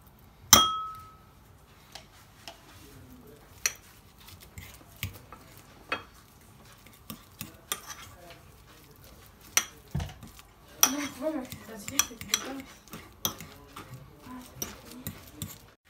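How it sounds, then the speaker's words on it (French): Metal utensils clink and scrape against a bowl while boiled eggs and chives are mixed with a big spoonful of mayonnaise for a salad, with irregular taps and stirring close by and no talking. "Je rajoute une grosse cuillère de la mayonnaise et on crasse tout. On va tout mélanger."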